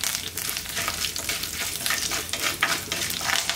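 Mustard seeds, urad dal, curry leaves and dried chillies fry in sesame oil for a horse gram kadaiyal tempering, giving a loud, close, continuous crackling sizzle with stirring throughout.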